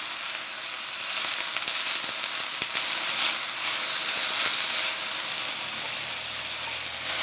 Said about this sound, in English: Ah, that satisfying sound of the sizzle.